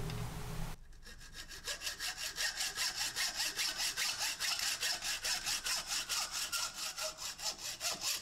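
Wood sawn by hand through the end of a wooden peppermill blank, close and loud, in steady back-and-forth strokes of about two per second after a brief start.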